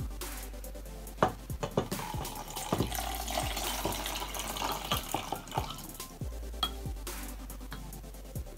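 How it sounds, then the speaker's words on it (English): Vinegar and borax are poured into a volcano slime science experiment, giving a steady splashing, trickling pour with small clunks and drips throughout. "We're gonna pour our vinegar and borax in now."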